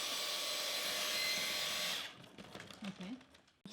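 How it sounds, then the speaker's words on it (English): A Dyson vacuum cleaner runs on a hardwood floor, a steady high whine that cuts off partway through, followed by quieter handling sounds and brief speech. "So this is how the Dyson performs on hardwood"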